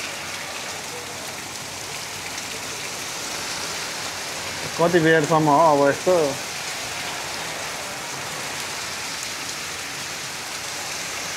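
Steady, dense rain hisses through a windy thunderstorm along the coast at Repulse Bay, a constant wash of drops on surfaces, while someone briefly speaks over it partway through.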